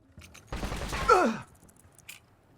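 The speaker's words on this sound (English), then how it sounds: "So Adler will shoot an unarmed man" In Call of Duty, Adler shoots an unarmed man: a single sharp burst of gunfire lasting about a second, with a short pained vocal cry at the end, then near silence.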